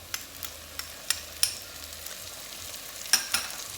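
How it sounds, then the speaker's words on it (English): Ginger garlic paste sizzling in a hot pan for chicken keema, a soft, steady frying hiss broken by small sharp pops and stirring clicks, close and fairly quiet. "nice sizzle."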